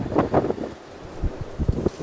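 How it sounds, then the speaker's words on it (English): Gusty wind buffets the microphone outdoors, rumbling in uneven bursts that rise and fall over a couple of seconds. "this windy condition is really bad"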